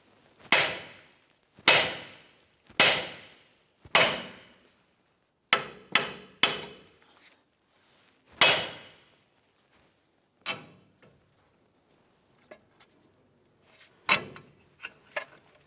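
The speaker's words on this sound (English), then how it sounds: "we're going to give this area a couple loving bonks to try to break the outer tie rod end free from the knuckle" A hammer strikes a steering knuckle to knock loose the outer tie rod end on a 2005-2010 Dodge Dakota, giving sharp metallic bonks in irregular bursts, about a dozen loud hits, then lighter taps with short gaps.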